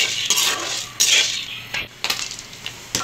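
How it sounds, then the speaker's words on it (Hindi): Popcorn kernels popping in hot oil inside a covered pot for caramel popcorn: a constant hiss broken by loud, irregular rattling bursts and clatters against the metal, close by, with no voices. "हमारे पॉपकॉर्न फूलना शुरू हो गए हैं"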